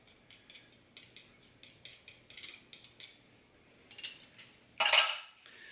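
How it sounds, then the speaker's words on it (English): A tablet being crushed between two spoons while making homemade strawberry wine: a steady series of small metallic clinks and grinding scrapes, close and quiet, ending in a louder crunching scrape. "we're going to crush that in between these 2 spoons"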